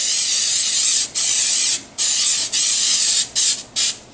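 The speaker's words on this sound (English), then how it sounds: "I'm going to spray" An aerosol can sprays olive oil inside a Dutch oven, loud and close, in several hissing bursts of varied length with short pauses between them.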